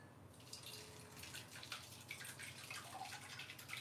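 Faint trickle and patter of water dripping from grated zucchini through a colander in a home kitchen, a soft continuous splashing with scattered drops.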